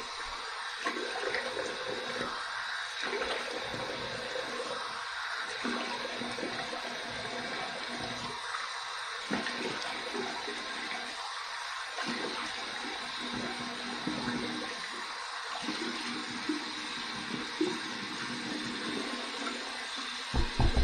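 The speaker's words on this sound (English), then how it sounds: "Here's my warm water rinse." Warm water runs from a bathroom sink faucet over a shaved head during rinsing, a continuous splashing stream lasting about twenty seconds with brief gaps and shifts as the head moves beneath the flow.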